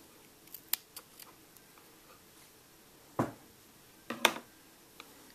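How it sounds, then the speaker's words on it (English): Scissors snip a loose yarn end during crocheting, giving two or three quiet, sharp clicks near the middle and end of the moment, with faint small ticks scattered around them and no talking. "I'm going to cut that loose end so it doesn't bother me while I'm doing this"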